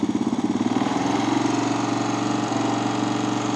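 Honda TRX 250 Sportrax ATV, a 2004 model, running on a cold engine just after starting. A loud, close, steady idle pulses fast and chugs evenly throughout with no voices.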